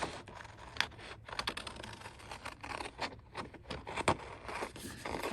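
Scissors snipping and scraping through decorative paper, fussy cutting around a printed motif for a junk journal; a close, steady run of small cuts and rustles with no talking.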